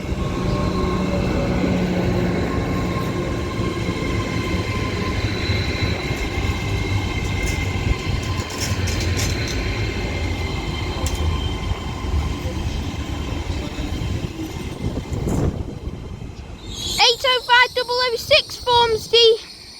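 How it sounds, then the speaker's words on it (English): A Class 805 train pulls into platform 4 at Llandudno Junction station, its steady rumble and rail noise filling the scene loudly before a brief rush and squealing wheel tones near the end. "West Coast service to Holyhead from Llandudno Junction with a Class 805 heading on to platform 4 now."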